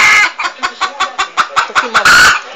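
An agitated hen clucks in a quick series of about ten sharp, close calls, ending in a louder drawn-out squawk.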